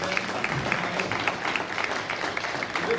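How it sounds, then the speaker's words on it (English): Applause from an audience at a school parent information meeting on dual language immersion, thanking the staff; dense, steady clapping from a room of people, moderately loud throughout with no clear talking over it. "if we give a round of applause and thank our staff"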